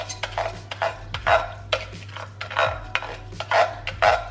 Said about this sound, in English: And we're just going to gently give that a stir.